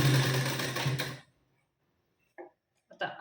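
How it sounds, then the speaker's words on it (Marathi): A sewing machine runs for about a second stitching a blouse seam, then stops, followed by a couple of brief clicks or handling sounds nearby. "आता शिलाई देऊ."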